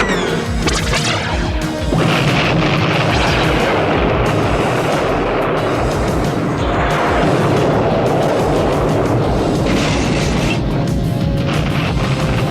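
Laser blasts fired from cartoon vehicles in a battle over treasure, a dense, loud barrage of crashing, booming shots with rumbling impacts continuing without pause.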